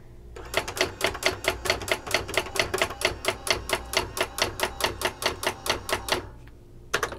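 Brother AX-22 electronic typewriter printing with auto underline switched on, a steady rapid train of sharp, close mechanical strikes at an even rhythm, running for several seconds before a brief pause and one more strike.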